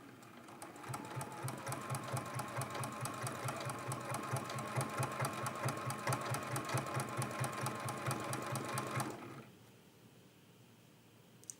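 A sewing machine stitches a peach quilt piece in quilt-as-you-go work, running at a fast even rhythm for about nine seconds before stopping, leaving a quiet room.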